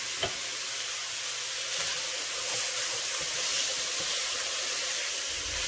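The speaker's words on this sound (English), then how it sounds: "when you put the alcohol into a hot pan" Alcohol sizzles and hisses steadily in a hot pan while cooking lasagna, a continuous close frying crackle with a faint bubbling undertone and no voices.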